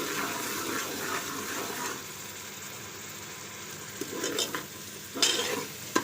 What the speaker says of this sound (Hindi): इन्हें भी डाल के अच्छे से मिक्स करते हैं।